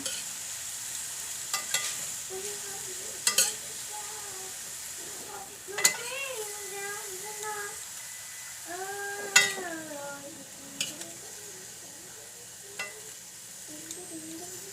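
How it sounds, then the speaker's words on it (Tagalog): Tofu and bean sprouts fry in a pan with soft sizzling while a utensil stirs them, giving occasional clinks and scrapes. Faint tonal, voice-like sounds drift in the background, and the whole scene stays fairly quiet. "Haluin lang natin ng konti para lang maano siya, yung lasa niya."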